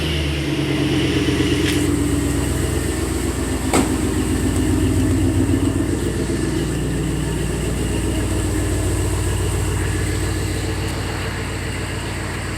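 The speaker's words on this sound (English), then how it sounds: "I'll give it a start and let you listen. Get this SS fired up." A Chevrolet SS V8 fitted with Black Horse mufflers, already warm, runs at a steady, loud, deep idle after starting, with a couple of sharp clicks early on and a constant rumble throughout.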